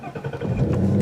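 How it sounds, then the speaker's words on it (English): A 2017 Ford Mustang GT Premium with a manual clutch fires up by push button, its engine catching and swelling into a loud, steady rumble that builds over a second. "hit the engine start button there, and we're good to go"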